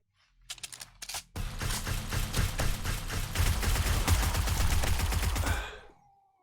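AK rifle fire in 7 Days to Die: a few scattered opening shots, then a loud, sustained rapid burst of automatic gunfire lasting several seconds before cutting off.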